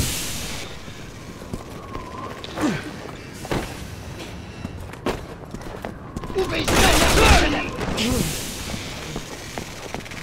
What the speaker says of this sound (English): We're gonna have to shoot our way out.